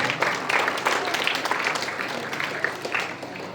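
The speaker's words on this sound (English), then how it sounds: "Please welcome them on the stage with a big round of applause" Audience applause at a school event where candidates for head boy, head girl and house leaders are welcomed onto a stage; a steady wash of clapping from a crowd, moderately loud and sustained throughout.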